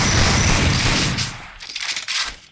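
Rapid automatic gunfire in the Free Fire mobile battle royale game, a loud sustained burst that thins into scattered shots and bursts near the end, with no talking.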